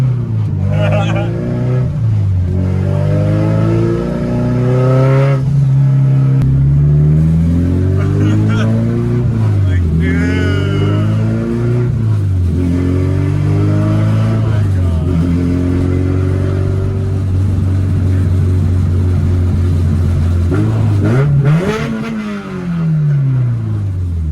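A turbocharged Honda Civic engine revs hard and climbs through rising and falling pitches while driving over potholed roads, loud and close, with an excited voice talking over much of it.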